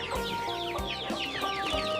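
Chickens kept in a backyard coop at a rural Thai home, with repeated clucking and clucks layered over a steady background of fowl noise, close and continuous throughout with no talk.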